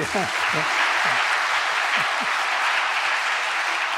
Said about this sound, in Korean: 우리 박수 한번 해요